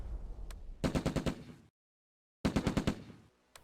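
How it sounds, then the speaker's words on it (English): A .30 caliber machine gun fires two distinct bursts of about six rapid shots each, separated by a short silence, loud and punchy in a World War II tactical battle at Groesbeek during Operation Market Garden. "The 30 caliber machine gun to the south opens up."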